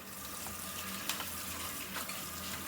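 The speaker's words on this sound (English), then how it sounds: "I'm just gonna rinse this off." Vacuum filters are rinsed under a running tap, giving a steady, close hiss of flowing water with small splashes and no talk.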